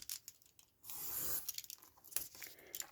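Scissors cut through paper for a green tab craft booklet, a few close, quiet snips and crisp rustles spaced unevenly over a few seconds.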